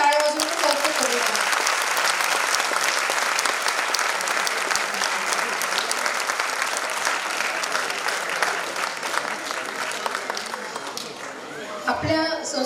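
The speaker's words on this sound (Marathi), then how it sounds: "जोरात टाळ्या वाजवून कौतुक करूया" An audience claps loudly for a children's performance, dense continuous applause from a crowd that holds steady and then thins out and stops near the end.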